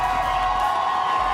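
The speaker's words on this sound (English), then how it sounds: "I can barely hear myself because the crowd has turned up today." A large arena crowd at a Valorant esports final in the VCT EMEA stage, roaring and cheering as a loud, continuous wash of noise.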